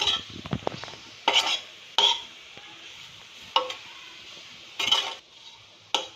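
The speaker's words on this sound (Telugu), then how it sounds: "కాకరకాయలు మొత్తం కారం పట్టేటట్టుగా మనం తిప్పుకోవాలి" Bitter gourd fry with chili powder being tossed in a pan, with intermittent scraping and clinking strokes of a utensil against the pan at irregular intervals, close and fairly quiet.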